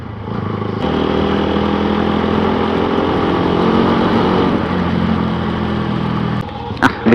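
Motorcycle ridden in strong wind before a storm, a loud steady engine drone mixed with heavy wind buffeting across the microphone, continuous for most of the stretch before easing briefly near the end.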